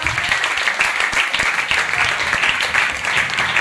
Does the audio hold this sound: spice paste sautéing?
no